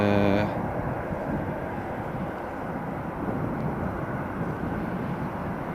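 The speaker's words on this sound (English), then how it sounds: "You can just hear the A321 of Turkish Airlines starting up" Turkish Airlines Airbus A321 jet engines spooling up at snowy Riga airport, a steady, broad roar heard from a distance that holds constant throughout, with a brief tonal whine at the very start.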